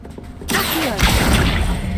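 A summoning spell from Hogwarts Legacy lands as a sudden whooshing burst of game magic that swells after a short quiet lead-in and keeps ringing with a bright, crackling shimmer until it ends.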